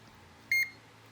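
Digital multimeter set to diode test emitting a single short high-pitched beep, clean and close, in an otherwise quiet room.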